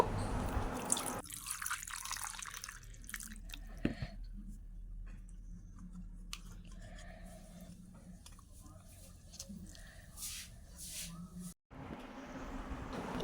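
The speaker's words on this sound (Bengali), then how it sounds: "তারপরে ওটা জল দিয়ে ভালো করে ধুয়ে নেব।" Two roasted, charred mangoes are rinsed with water. A faint, steady flow of water runs with soft splashes and drips throughout, briefly cut off near the end.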